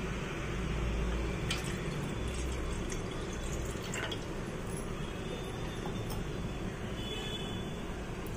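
Water being poured into a cooking pan to start sugar syrup for instant-mix gulab jamun, a steady continuous splashing and trickling fill heard up close throughout with no talk.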